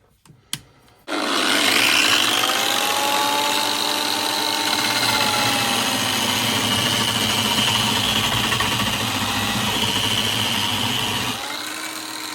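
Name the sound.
Parkside floor and wall sander sanding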